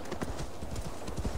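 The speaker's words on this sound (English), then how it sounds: "Alright, horse, let's swim to this island." Horse hooves clip-clop steadily in the video game Assassin's Creed Valhalla, a quick even rhythm under a dense background of game ambience and music.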